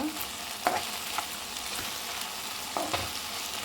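Okra (ladies finger) fries in a pan over low heat with a soft, steady sizzle and a few quick spatula scrapes, heard close and fairly quiet.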